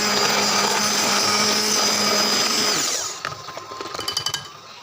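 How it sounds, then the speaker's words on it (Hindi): Electric hand blender mixing yogurt into green chutney whirs loudly and steadily, then winds down and stops, followed by a few light tapping knocks against the container. "इसको भी हैंड ब्लेंडर की मदद से अच्छे से मिक्स कर दूँगी।"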